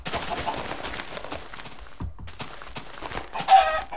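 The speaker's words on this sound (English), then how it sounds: "Hey, look, a chicken. Some chick, lots of chickens." Chickens in a large village in the video game Minecraft cluck in short in-game calls over a busy, noisy game soundscape with scattered clicks and footsteps.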